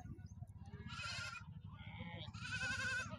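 Goats bleat in two loud, sustained calls at a livestock market in Yellareddypet, with a steady low crowd murmur and market bustle running underneath throughout.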